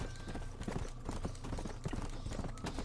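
Horse hooves clip-clop in Red Dead Redemption: Undead Nightmare, a quiet, steady rhythm of hoofbeats at walking pace with faint in-game background sound.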